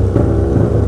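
A Kawasaki ZX636 sport motorcycle engine runs loud and close, a steady low throbbing rumble held without pause and with no voices over it.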